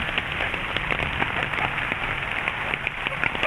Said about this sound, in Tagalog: Pag hindi hihinto yung ulan.